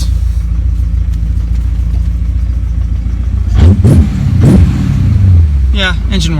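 A BMW E30 fitted with a swapped S62 V8 idles with a deep, steady rumble, then revs up sharply a couple of times, loud and close, with a voice speaking over it.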